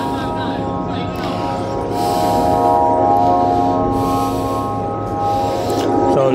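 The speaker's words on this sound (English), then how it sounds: "So this is like wind chimes" Wind chimes ring steadily with sustained metallic tones in a relaxing spot at Blackpool at night, layered over constant background noise that swells midway.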